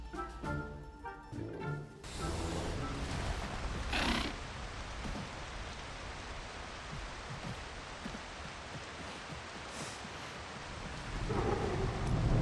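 Heavy rain pours steadily with loud thunder crashes and rolling rumbles on a night in the grassland savannas of the game Path of Titans, with a brief musical passage at the start and no talk.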